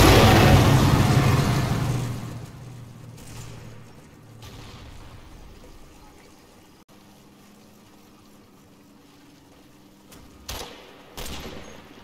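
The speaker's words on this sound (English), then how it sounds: "The Typhoon's first strafing run" A Typhoon aircraft makes a strafing run in the war game Combat Mission, with a loud burst of rapid gunfire and booming impacts that fade into a lingering rumble, followed by a few sharp distant reports near the end.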